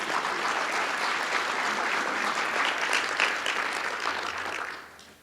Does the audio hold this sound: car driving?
no